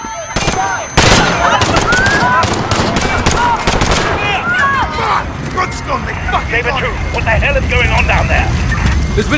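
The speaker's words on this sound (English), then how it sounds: "Shots fired, officers down." Sustained machine-gun and rifle gunfire erupts during a terrorist attack at Piccadilly Circus, London, in Call of Duty Modern Warfare, loud and dense bursts running throughout with shouted voices mixed in.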